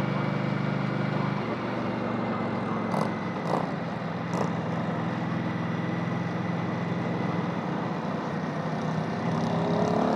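An Indian Scout Bobber motorcycle engine holds near 3,000 RPM while riding, a steady, fairly faint hum with wind noise and a few brief clicks.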